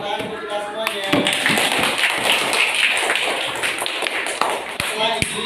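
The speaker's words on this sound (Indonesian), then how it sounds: "Terima kasih tepuk tangan untuk kita semuanya." Classroom applause from a group of students and teacher, a dense, steady patter of many hands clapping close by that carries on throughout, with voices talking underneath.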